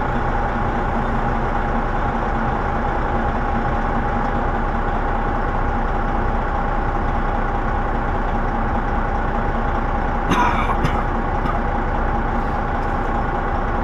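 A truck engine with a failed turbo runs steadily at idle, a loud, constant low rumble with a droning whine, continuous and close throughout with a brief rattling clank near the end.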